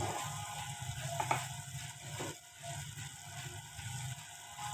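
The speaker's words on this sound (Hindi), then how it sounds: "इसको कीमे को मसालों के साथ अच्छी तरह भून लूँगी।" Minced beef frying in a pan with salt, turmeric and dried coriander, giving a steady close sizzle with a few faint scrapes and clicks mixed in.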